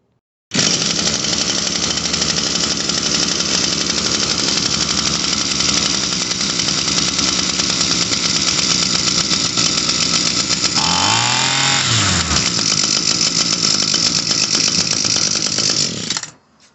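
An Echo SRM-230 string trimmer's small two-stroke engine runs loud and steady at a high, buzzing idle for a long stretch, with a brief pitch dip near the end before it stops.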